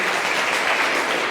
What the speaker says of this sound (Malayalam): സഹേലെ നല്ലൊരു കയ്യടി കൊടുത്ത് ഇങ്ങ് വിടുക